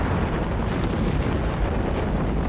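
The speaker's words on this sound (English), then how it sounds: "Now here comes another barrage." Artillery barrage explosions from the strategy game Company of Heroes 3, a continuous rumbling roar of overlapping booms close and loud, with no distinct individual blasts standing out.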